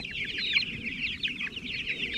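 Meat chickens clucking inside a chicken tractor on pasture, a steady overlapping chorus of soft clucks and chirps from a close flock, with a low outdoor rumble underneath.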